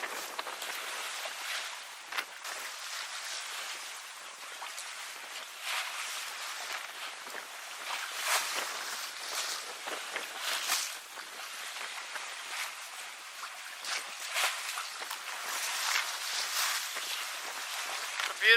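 Sailboat gliding slowly through calm open ocean at 2.5 to 3 knots, about latitude 30 between Hawaii and the Strait of Juan de Fuca; soft continuous water swish and hiss with gentle surges, fairly quiet, no voices.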